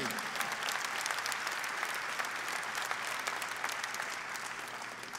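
A crowd at an evening bodybuilding weekend event applauds for a DJ, a continuous wash of many hands clapping at a moderate distance, steady throughout and easing slightly at the close.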